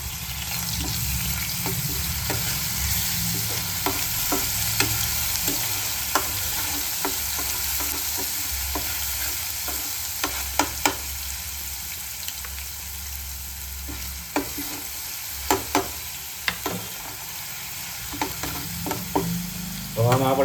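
Ginger garlic paste sizzles steadily in hot oil for chole masala, with frequent scrapes and clinks of a spoon stirring the pan, close and continuous.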